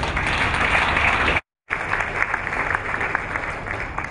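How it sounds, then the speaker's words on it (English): Audience applause at a Culture Day event, dense steady clapping from a crowd for about four seconds, briefly cut to silence partway through before resuming just as strongly. "Can we give a round of applause?"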